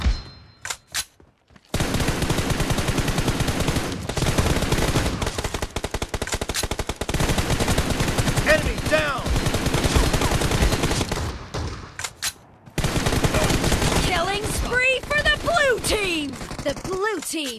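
Rapid bursts of automatic gunfire from the BGMI battle royale mobile game, dense and loud, with brief pauses and some reloading and in-game voice callouts between volleys.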